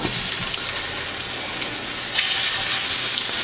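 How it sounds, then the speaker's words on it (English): Shrimp sautéing in a pan fill the air with a dense, hissing sizzle that swells slightly toward the end, close by and uninterrupted by speech. "we can put the shrimp in. I'm going to give it a little saute"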